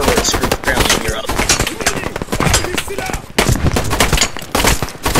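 Dense, loud gunfire from a modded video game, with rapid machine-gun bursts and overlapping shots running continuously, and a voice partly buried under the shooting.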